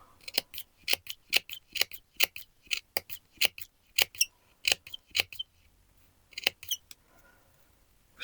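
Scissors snip through crepe paper in a quick run of crisp, close cuts, about twenty sharp blade closures in steady bursts with brief pauses between them.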